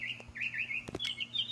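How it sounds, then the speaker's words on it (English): Small birds chirp and tweet outdoors in quick repeated high calls throughout, fairly close and clear, with a faint low hum underneath and no one talking. "Sorry about the birds. I'm outside."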